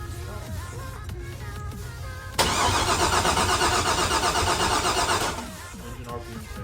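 A Pontiac Trans Am engine, newly swapped, cranks loudly for about three seconds under a bright whirring starter before cutting off, with low background rumble and people talking nearby.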